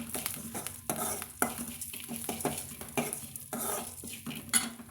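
A spoon scrapes and stirs toor dal as it dry-roasts in a pan, a run of quick clinking, scraping strokes with a faint hiss, close and fairly quiet, with no talking.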